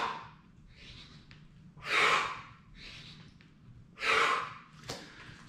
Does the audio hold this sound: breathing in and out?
yes